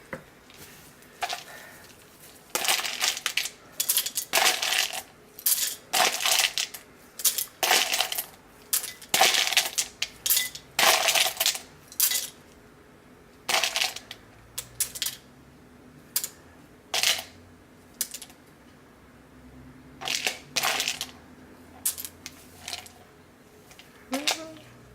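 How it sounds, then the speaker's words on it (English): Solid cocoa butter pieces tumble into a container while shaving soap is being made, giving many sharp clattering clicks in irregular bursts, close and fairly loud, with brief pauses between handfuls. "Then I am putting in some cocoa butter."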